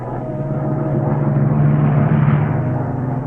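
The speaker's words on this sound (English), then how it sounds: "Then this German plane comes along and spots us." A German propeller warplane drones overhead on a World War II front, a steady, loud engine hum that swells slightly toward the middle and holds with no voices over it.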